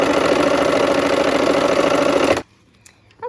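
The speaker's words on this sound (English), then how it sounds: "let's go ahead and sew that seam." A sewing machine runs fast and steady while stitching a quilt seam, a loud continuous whir that cuts off abruptly, leaving near silence with a faint click or two.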